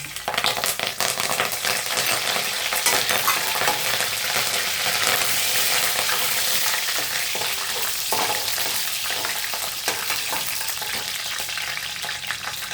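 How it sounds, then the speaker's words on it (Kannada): Mustard seeds, green chili and curry leaves fry in hot oil, a loud dense crackle and sizzle with rapid spitting pops that holds steady throughout, close up and without any voices. "ಆಯಿಲ್ ಬಿಸಿ ಆಗಿದೆ ನೋಡಿ ಸಾಸಿವೆ ಹಾಕ್ತಾಯಿದ್ದೀನಿ ಇದು ಮೆಣಸಿನಕಾಯಿ ಮತ್ತು ಕರಿಬೇವು"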